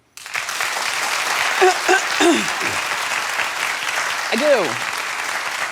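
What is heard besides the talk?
studio audience applause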